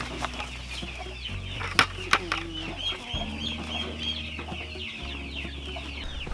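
Fifteen turkeys at feeding time make a steady chorus of clucks and gobbling calls close by, with a few sharper calls standing out over a low continuous hum.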